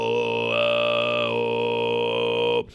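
Mongolian throat singing in the low harira undertone style: one steady, buzzing vocal drone that holds for over two seconds, loud and close, with a brief pitch shift in the middle before it cuts off.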